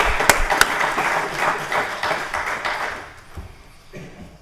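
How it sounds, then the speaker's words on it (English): Applause for the mayor in a city council chamber in Orlando, a brief burst of many people clapping that starts strong and gradually thins out, dying away over a few seconds. "Can we give the mayor applause on that?"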